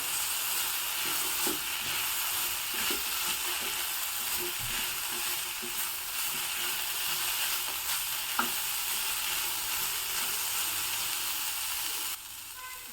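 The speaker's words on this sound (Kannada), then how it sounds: "ನೋಡಿ ಹಾಗಲಕಾಯಿ ಚೆನ್ನಾಗಿ ಫ್ರೈ ಆಗಿದೆ" Bitter gourd frying in a pan for a gojju, giving a steady, soft sizzling hiss throughout with occasional light clicks and scrapes of stirring, and the sizzle dropping away near the end.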